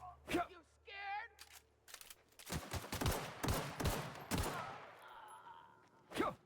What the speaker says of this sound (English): Let's see, we're shooting guns.